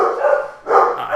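Dogs bark in two loud, close bursts, with a yelping, whiny edge and no talk over them.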